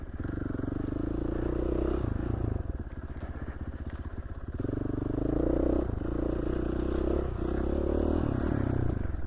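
A dirt bike engine drones steadily and close while pushing through bushes, with a rough idling putter in the middle and branches scraping and clattering against the bike.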